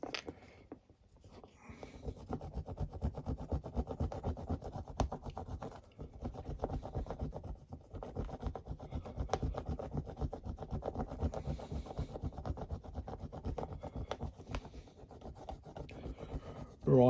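Brasso polish being rubbed by hand onto the suspension ring of a WWII medal: a close, steady, scratchy rubbing that runs continuously in quick strokes, with only brief pauses.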